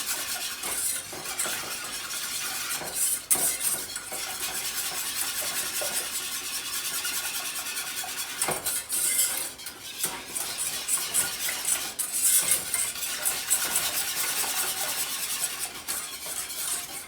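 Homemade Alfredo sauce is whisked in a pan, making a steady wet, rapid swishing with scattered light clinks of the whisk against metal. The sound stays close and continuous, with no voices.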